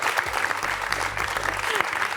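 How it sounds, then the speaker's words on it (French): Studio audience at a French TV quiz show applauds warmly, steady dense clapping filling the whole short stretch, close and fairly loud. "Est-ce qu'on peut applaudir très chaleureusement Viviane?"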